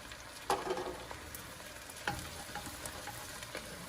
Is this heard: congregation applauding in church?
no